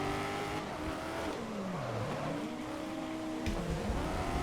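Race car engine in GRID 2019 racing alongside a Porsche, a steady mid-distance drone whose pitch sweeps down and back up through gear changes, with a sharp pop near the end.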